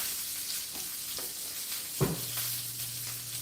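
Sweet potato fries sizzle in hot oil, a soft steady hiss with a brief clatter midway, quiet and continuous with no voices.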